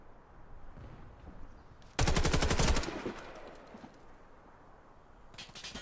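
Warface multiplayer gunfire: a sharp, loud burst of rapid automatic shots lasting under a second, then quieter game ambience with a second faint burst at the end.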